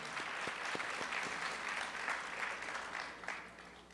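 Quiet, distant applause from a festival audience fills the hall evenly, many hands clapping in a soft continuous wash with a few sharper individual claps standing out early on.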